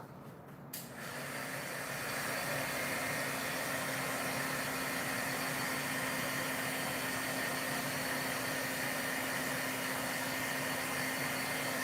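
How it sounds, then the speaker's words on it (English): An electric heat gun used for heat embossing switches on after a brief quiet moment and then blows a loud, steady roaring hiss with a constant hum for the rest of the clip. "I'm going to go over and heat emboss this"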